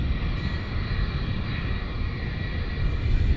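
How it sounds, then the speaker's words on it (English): American Airlines Boeing 787 Dreamliner, a heavy widebody jet arriving from Shanghai at DFW International Airport, roars steadily up close as its engines hold a loud, continuous broadband rumble with a slight swell near the end. "we got a heavy alert for Dreamliner lining up from Shanghai for American Airlines"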